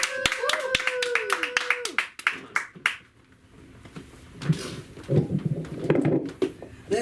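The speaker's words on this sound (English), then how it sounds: "I want to give a warm hand of applause for Zelandia" Scattered claps from a small open mic comedy audience at the LA School of Comedy, a few sharp hand claps up front, then quieter murmuring and room noise with talk underneath.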